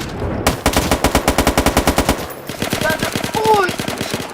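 Rapid automatic gunfire in a Roblox shooter game in a steady burst, loud and close, followed by more scattered shots with metallic electronic tones layered over them.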